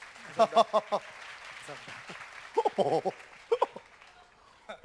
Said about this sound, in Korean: 다시 한번 감사드리고 박수 한번 좀 보내주세요.